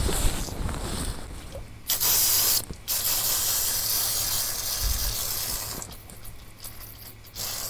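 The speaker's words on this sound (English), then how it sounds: "I got brake clean on the paint" An aerosol can of brake cleaner sprays in hissing bursts while a portable ETQ generator is serviced. There is a long loud spray, a short pause and a brief second burst, then quieter hiss, ending with another strong spray.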